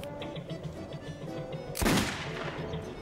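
A single sharp gunshot at a shooting range cracks out midway through, standing out loudly against a quiet, low background hum.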